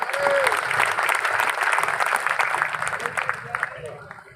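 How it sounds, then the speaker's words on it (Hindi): Audience at a cow shelter event in Haryana breaks into sustained applause, dense clapping with some voices mixed in, loud and steady before trailing off toward the end. "एक बार ताली बजाओगे सारे आंगा लगे।"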